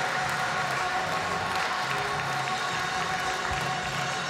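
Steady applause from a large audience fills the whole stretch, dense and continuous without pause.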